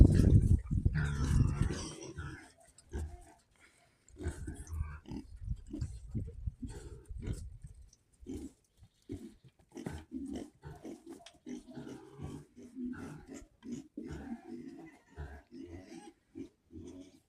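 Vietnamese pot-bellied pigs on a village farmyard grunt and snuffle close by in a dense run of short, irregular grunts, louder and busier at first and then continuing in quieter bursts.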